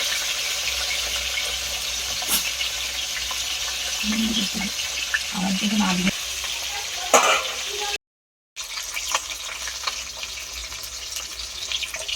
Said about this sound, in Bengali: তেলটা আমার খুব ভালোভাবে তেতে গেছে, আমি সব মাছগুলো ভেজে নেব।